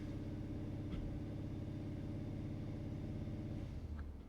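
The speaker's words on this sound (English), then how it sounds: "Let off, let it idle for about 10 seconds." A 2009-2020 Ford F150 engine idles evenly with a steady low hum and fine rhythmic pulse, heard close, easing slightly near the end.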